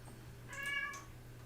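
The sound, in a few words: cat meowing unhappily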